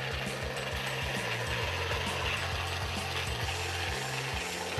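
A competitor's tire inflator connector is screwed onto a tire valve, giving a steady run of ratcheting, clicking mechanical turns over a continuous loud background hum, with no talking.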